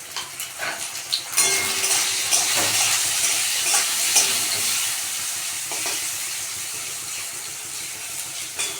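Pointed gourd frying in a pan with salt and turmeric gives a continuous close sizzle, with scraping stirs and light utensil clinks throughout.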